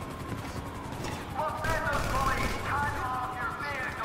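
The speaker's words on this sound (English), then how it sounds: "That's a lot of gunfire." Video game gunfire in GTA V crackles in rapid bursts under a speaking voice, with busy background noise throughout.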